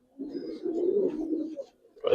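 Giribaz and coloring pigeons give a close, low, rolling coo that swells and holds for over a second, then fades, with a sharper rustle at the end.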